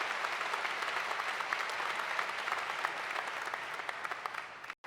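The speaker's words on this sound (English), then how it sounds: "Let's give those sports teams and our entire sports program a round of applause." Commencement audience gives sustained applause for the sports teams, a dense wash of many hands clapping at steady volume, stopping abruptly at the end.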